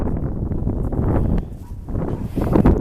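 Strong wind buffets the microphone in heavy low rumbling gusts, loud and close, with a faint rustle in the background.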